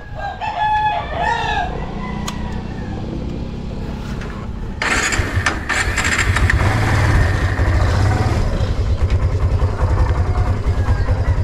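A vehicle engine idles steadily while warming up, a low rumble that swells partway through, with roosters crowing and clucking nearby throughout.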